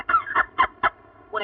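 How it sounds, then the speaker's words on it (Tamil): A chicken gives a handful of short, separate clucks in an uneven rhythm, close and fairly loud, with brief quiet gaps between them and no voices. "கோழி."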